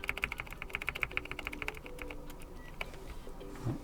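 Scratchy, rattling key presses on a Keychron K4 HE keyboard sound close up: a quick run of sharp clicks, then a few sparser taps, with no talking.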